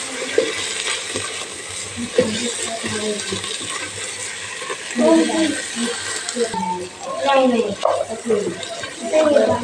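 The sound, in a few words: whole coriander being roasted in a pan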